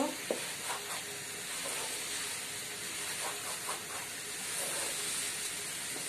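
Rice is fried in a pot while making chicken biryani, with a soft, continuous sizzle and hiss and faint stirring scrapes throughout, no voices.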